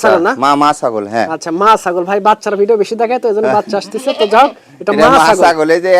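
Goat bleating on a goat farm, with a high-quality breeding doe shown among the herd. Repeated wavering bleats come up close and fairly loud, mixed with and partly masked by someone talking throughout.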